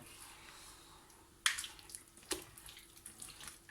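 Lukewarm water from a bottle is poured onto dough by hand, a soft splashing trickle with two sharper splashes and a wet squishing patter that follows.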